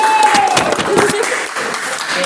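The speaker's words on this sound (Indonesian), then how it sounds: "tepuk tangan buat teman kalian" Classmates applauding after a group presentation in a classroom, steady clapping throughout with voices mixed in.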